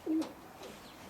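Roller pigeons, cocks kept in a loft box, give a soft low coo followed by a fainter second call, close and quiet against a light background hiss.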